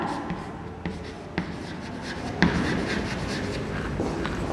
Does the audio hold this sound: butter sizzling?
no